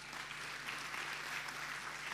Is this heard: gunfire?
no